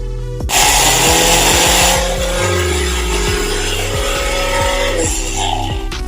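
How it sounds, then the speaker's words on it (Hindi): Electric kitchen grinder coarsely grinding roasted spices for a fish fry masala, a loud steady motor whir with rattling, starting abruptly, running continuously and changing pitch briefly near the end. "रोस्ट करने के बाद अब हमने इसको ग्राइंडर में डाल के इसका पाउडर नहीं बनाना, इसको दरा दरा सा पीस लेना है।"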